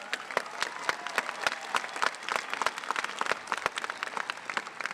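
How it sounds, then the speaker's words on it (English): Audience applause at a high school graduation, a steady moderate patter of many hands clapping throughout, with little speech over it. "yeah, you can clap"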